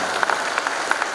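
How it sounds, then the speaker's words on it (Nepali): Scattered hand claps from an audience at a Gurung pageant grand finale in Nepal, welcoming the society chairperson to the stage; a few sparse claps over a brief moment. "हामी जोरदार तालीले सम्मान व्यक्त गर्दै स्टेजमा आमन्त्रण गर्छौँ"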